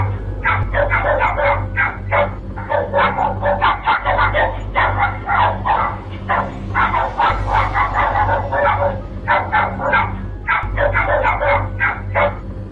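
Several dogs bark and yip in rapid, continuous bursts for the whole stretch, loud and close, with occasional whimpering, during an unsettling night scene.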